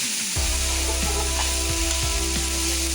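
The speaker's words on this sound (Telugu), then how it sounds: "క్యాప్సికమ్ పీసులు ఇవైతే మంచిగా ఫ్రై చేసి మూత పెట్టి మగ్గనియాలి." Pieces of capsicum fry in a pan for a Telugu-style capsicum curry. A steady, close sizzle runs throughout, with a few soft knocks of a stirring spoon and no talking.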